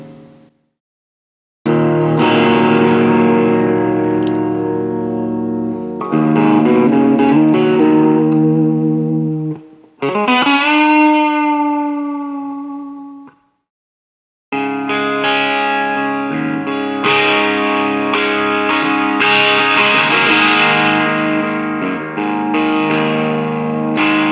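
Loud electric guitar through an overdriven amp, sustained crunchy chords ringing out, a brief pause, a bending note, then more distorted strumming.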